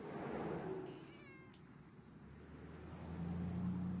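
A single cat meow rises briefly in the Randal's Monday video game, faint and short over a steady low hum of background noise, with no talking.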